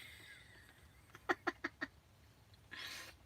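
A chicken indoors gives four quick, evenly spaced clucks up close, moderately loud against quiet room tone, followed by a soft rustle.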